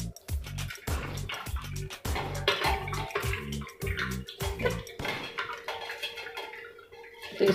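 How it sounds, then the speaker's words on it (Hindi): Rhythmic sloshing and splashing of hands washing chhena cheese curds in a bowl of water, repeated strokes, close up, ending in dripping and a quiet swirl. "तो हम इसको दो तीन पानी से धो लेंगे।"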